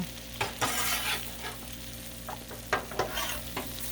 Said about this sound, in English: Look at this skill in handling double spatulas.